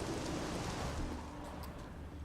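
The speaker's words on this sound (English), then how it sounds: "Looked like it would rain, and here it is." Steady rainfall in the video game Witcher 3, a broad, continuous hiss of rain with a low rumbling undertone, no voices over it.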